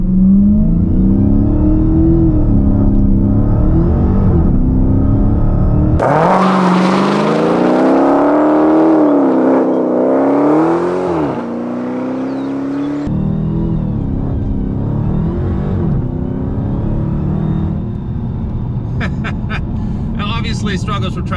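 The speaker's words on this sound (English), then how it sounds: "all you do is hit the launch button, press brake, and apply full throttle" A Dodge Challenger Hellcat launches at full throttle, its engine roaring loud and close as it revs, climbs and shifts through gears in one continuous rising surge, while someone talks over it.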